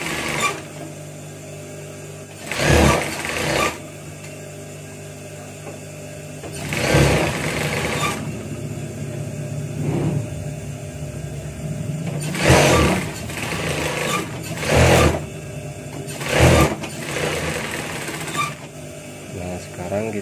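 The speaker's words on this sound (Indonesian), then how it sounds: "Sekarang kita jahit bagian sebelah kirinya ya" A sewing machine stitches a two-colour women's shirt in short repeated bursts of fast whirring, starting and stopping several times, while someone talks throughout.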